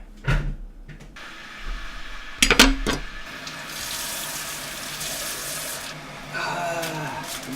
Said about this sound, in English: Let's put the water on,